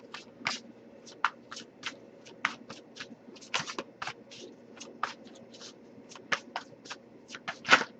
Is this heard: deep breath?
no